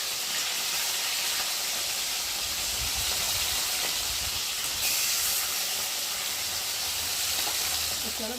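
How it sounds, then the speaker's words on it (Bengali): Fasa fish heads fry in hot oil in a kadai, a loud dense continuous sizzling hiss that stays steady throughout with a few low bumps beneath it. "একটা মাছ 2 পিস করে করেছি, মাথাগুলো আগে ভাজি, লেজাগুলো পরে ভাজি।"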